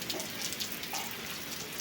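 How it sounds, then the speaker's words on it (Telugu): Rain falling steadily during a week of wet weather, a dense, even patter and hiss with no pauses, close and fairly soft, with no talking. "వర్షం ఎలా వచ్చేస్తుంటే"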